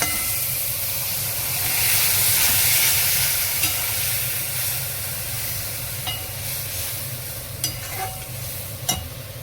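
Potatoes and drumstick flowers fry in a pan as a paste of ground poppy seeds and green chilies is added, giving a loud, continuous sizzle with steamy hiss and occasional scraping stirs.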